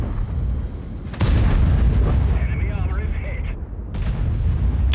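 A tank cannon in World of Tanks fires once with a loud, close boom, followed by a rolling rumble and a second, lighter burst of noise; no speech.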